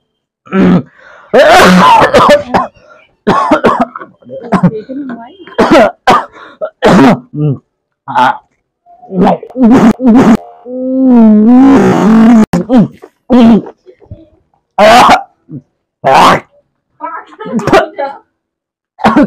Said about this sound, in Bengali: কাশি হচ্ছে কেন? কি রান্না করছে? আরো কাশি হচ্ছে?